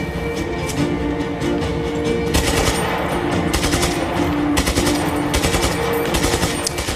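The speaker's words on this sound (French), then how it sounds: "J'aime pas tellement ce nouveau flingue que j'ai pris. Je trouve pas super efficace." A newly picked-up gun firing in the Just Cause 3 video game, loud sustained rapid automatic bursts repeating one after another with short gaps.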